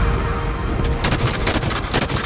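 Light rifle gunfire in the video game Halo 5: Guardians during a combat mission, a loud volley of rapid sharp shots that crackle in bursts over background battle noise.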